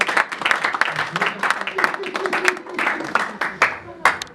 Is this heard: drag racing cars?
no